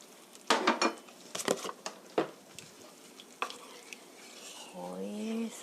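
Milk and oil being stirred in a pot, heard as a series of close metallic scrapes and clinks of a utensil against the pot, irregular and fairly loud, with a soft simmering hiss rising near the end.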